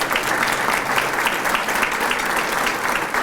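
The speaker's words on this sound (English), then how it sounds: "Yeah, you can clap." A banquet audience at a county award celebration claps steadily in a dense, even burst of applause that holds at full strength throughout.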